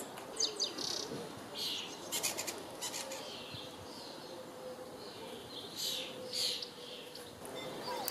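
Garden birds swooping down to eat scattered seed on a path, with faint, scattered chirps and tweets over a constant outdoor hiss.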